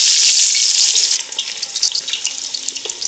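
Onions drop into hot oil for a chicken feet (paya) curry, setting off a loud, dense sizzle that quickly settles into steady crackling frying with scattered pops.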